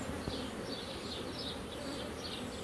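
A mature honey bee colony heavy with brood and pollen buzzes densely and continuously up close, a thick steady hum with faint higher whines drifting over it and no voices.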